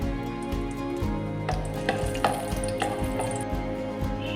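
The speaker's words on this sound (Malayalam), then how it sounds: "അടുത്ത് റൈസിൻസ് വഴറ്റി എടുക്കുന്നു." Cashews and raisins sizzle and crackle as they fry in oil in a kadai, with a steady close hiss broken by brisk stirring scrapes and spatters.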